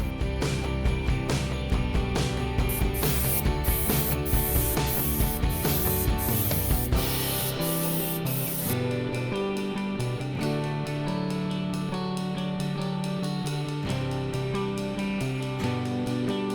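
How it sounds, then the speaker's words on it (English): A steady hiss of a spray gun laying down primer, continuous and fairly close, with a busy musical backdrop running underneath. "So I'm going to go ahead and mix up the primer, prep that, and start spraying."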